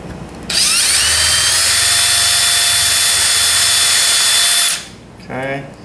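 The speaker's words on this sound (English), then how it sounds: "So we have the holes drilled." A power drill bores holes for a DIY CO2 gel delivery component, its motor whining steadily and loud for about four seconds before spinning down, followed by a brief faint scrape.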